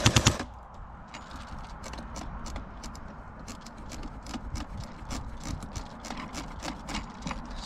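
Cyma Sport AK47S RIS airsoft AEG rifle with a metal gearbox firing on full auto, with a steady mechanical rattle of rapid shots, close and fairly loud, running continuously after a brief sharper burst at the start.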